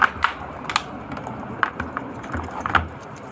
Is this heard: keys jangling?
yes